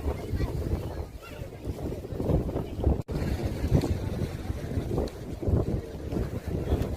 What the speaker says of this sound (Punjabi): ਥੋੜੀ ਥੋੜੀ ਹਵਾ ਚੱਲ ਰਹੀ ਹੈ